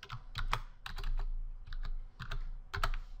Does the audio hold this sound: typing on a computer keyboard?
yes